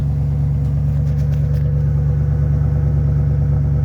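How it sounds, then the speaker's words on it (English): A 1983 Ford Mustang GT 350 engine idles steadily with a deep, constant rumble and low hum, no talking, holding an even level throughout. "That's the sound of the Mustang."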